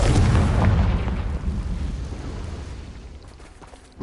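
A loud Confringo fire spell blast in Hogwarts Legacy, with a heavy booming burst at the start whose rumble fades slowly over several seconds, and a fresh impact hits right at the end.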